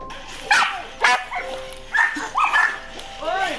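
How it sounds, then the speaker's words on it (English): A large pack of about a dozen dogs barking outdoors, sharp overlapping barks and yips arriving in irregular bursts, fairly close and loud, with a faint voice underneath. "That's a lot of dogs."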